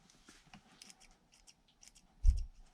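The scissors of a Ganzo G302-B multitool snip through paper in a string of light, crisp cuts, closing with one heavier, fuller crunch, heard close up and without voices.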